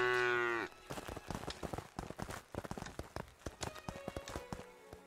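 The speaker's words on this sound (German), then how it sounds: "Da haben wir die Kuh gefangen." A cow in the video game Craftopia lets out one loud drawn-out moo, followed by a quick series of soft footstep-like thuds and clatters.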